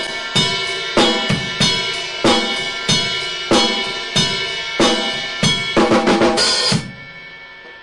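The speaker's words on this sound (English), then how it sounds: "The kick drum and snare drum, it sounds like this." A drum kit plays a steady rock pattern of kick drum and snare drum, with regular punchy hits roughly every half second and a quick flurry near the end before stopping, close and without talking.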